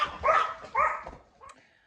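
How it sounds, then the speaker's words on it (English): A dog barks a few times in quick bursts, fairly close, followed by a brief higher yelp, with quiet background between barks. "My dogs are barking."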